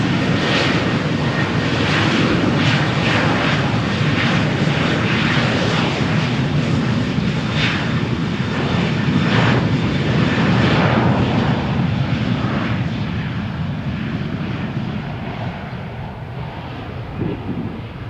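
A Transavia airliner takes off from the runway at Malaga Airport on a stormy morning, its jet engines roaring steadily and then slowly fading as it climbs away. Wind buffets the microphone throughout.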